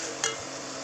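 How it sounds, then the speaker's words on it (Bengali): Tomato paste, turmeric and spices fry in a pan for a spicy prawn curry, a steady soft sizzle with a brief scraping stir near the start. "ভালো করে মশলা কষিয়ে নেব"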